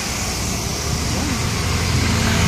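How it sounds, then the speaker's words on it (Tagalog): Steady road traffic on Jones Bridge in Manila, with motorcycles passing continuously in a dense, close rumble of engines; no talk is heard over it. "daming dumadaan dito na mga motor kasi paikot ito"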